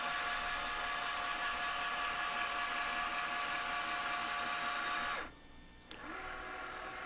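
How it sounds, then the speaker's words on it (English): A Transmotec linear actuator driven by a QuickSilver controller extends with a steady, loud mechanical whine and hum for about five seconds, then cuts off abruptly, followed by a brief click and a quieter residual hum. "Initially we home the actuator to a hard stop, back up and register, and then extend it 8 inches in 10 seconds."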